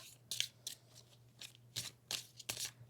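Tarot cards are shuffled by hand in quick, crisp riffles and slaps, about eight bursts of varying length, close and quiet, with no voices.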